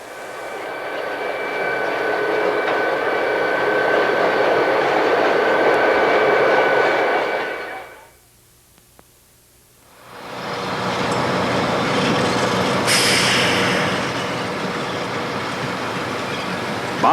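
A CSX freight train on the Clinchfield line rumbles past in a loud, broad roar that briefly drops to near silence before returning just as strong, continuous and close with no talking.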